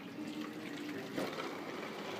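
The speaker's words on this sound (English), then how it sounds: "Well, let's put some more water in it." Water pours in a steady low trickle into a Mr. Funnel fuel filter funnel, a soft continuous splashing heard alone and fairly faint.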